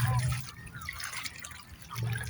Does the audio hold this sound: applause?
no